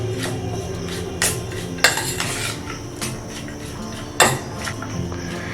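A potato and flour dough is stirred in a bowl with a metal utensil, giving scraping, clinking strokes with a few sharper knocks against the side, close and fairly quiet, with no voices.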